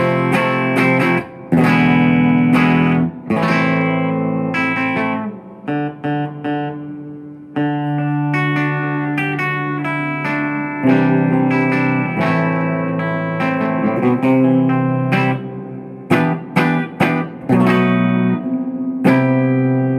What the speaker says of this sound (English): let you hear the reverb on this.